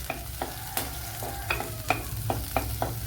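Garlic, ginger, green chili and curry leaves fry in hot oil, a close steady sizzle broken by about eight sharp clinks and scrapes of a utensil stirring the pan.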